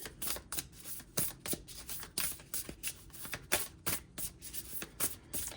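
A deck of 33 playing cards is shuffled again and again in quick riffling bursts, each a crisp papery flutter, recurring steadily at close range with no talking.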